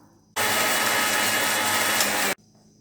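A kitchen mixer grinder blending ingredients with added water whirs loudly for about two seconds, a steady dense motor roar with sharp start and stop against a quiet background.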